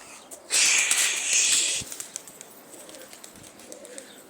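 Pigeons kept by a bird fancier in a rooftop loft burst into a loud flurry of flapping wings lasting about a second, then settle into soft scattered coos and small rustles nearby.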